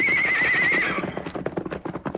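A powerful white horse called Silver lets out a loud, wavering whinny, then its hooves clip-clop in a quick, uneven run of close, sharp beats.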